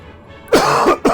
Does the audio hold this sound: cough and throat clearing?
yes